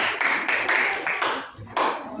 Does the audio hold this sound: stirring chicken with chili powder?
no